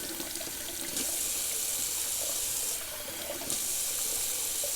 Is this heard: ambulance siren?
no